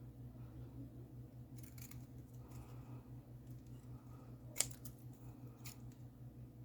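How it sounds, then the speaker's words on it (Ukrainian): Scissors snip out small hoof pieces for a soft flat finger puppet toy, with a few faint, sparse cuts over a low steady hum and one sharp click. "І так само я вирізаю ратиці."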